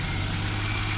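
A tractor engine runs just after a battery was installed for a test start, a steady low rumbling idle close by, heard briefly for about a second.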